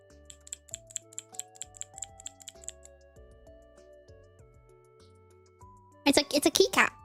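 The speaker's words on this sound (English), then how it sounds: "It's a keycap and it lights up. And I like it. Great noise." A light-up Mimikyu keycap button is clicked about a dozen times in quick succession, making sharp, light ticks close by over soft background music. A voice speaks briefly afterward.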